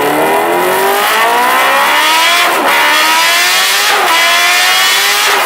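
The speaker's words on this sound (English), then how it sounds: "if you're curious as to what that sounds like" A Kawasaki H2R motorcycle engine revs loudly and close, holding a steady howl that rises in pitch in repeated sweeps with brief dips between pulls.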